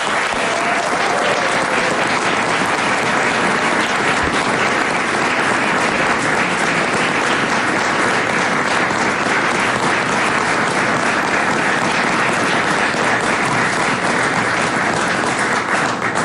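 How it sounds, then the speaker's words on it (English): A large audience at a political speech in New York applauds Senator Alessio, a dense, steady wash of clapping that stays loud and unbroken for about sixteen seconds with no voices over it. "let's give him a round of applause"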